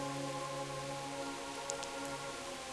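Soft, steady rainfall in the medieval game Kingdom Come Deliverance, a faint continuous hiss of drops on the ground beneath low sustained tonal music.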